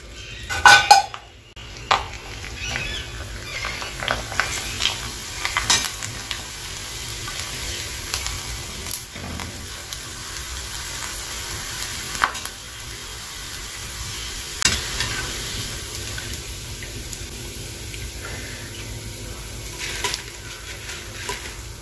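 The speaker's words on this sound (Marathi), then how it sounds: "अजून एक तळून बघूया" Wheat kurdai frying in hot oil makes a soft, steady sizzle, punctuated by clinks and scrapes of a metal utensil against the pan at irregular moments.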